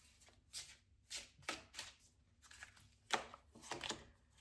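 Tarot cards are handled and laid out close by, a quiet series of soft swishes and slaps, about a dozen, in an uneven rhythm; no speech.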